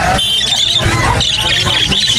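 Harsh, repeated squawks from a Far Blue Opaline Dilute bird for sale at the Bocaue pet market, loud and close, with market chatter running underneath.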